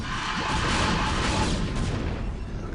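Photon cannons in StarCraft fire at attacking Mutalisks, a dense, continuous barrage of booming, crackling impacts and blasts from a video game, heard alone without talk.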